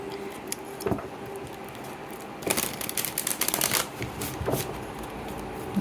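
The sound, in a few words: shuffling Starseed oracle cards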